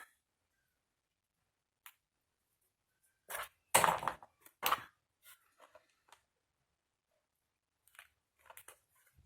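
Scissors snipping excess paper while assembling a Harry Potter mini album, a few sharp, close cuts clustered together amid near silence, followed by faint scattered clicks.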